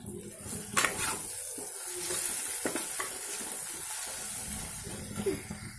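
Garam masala powder is stirred into spinach and chicken frying in a pan, producing a steady sizzle with scraping stirring sounds and occasional soft clinks.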